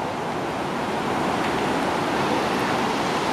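Ocean waves at a sand beach in Gladstone, Queensland: continuous broad wash of surf with soft wind, steady and moderately loud, no talking.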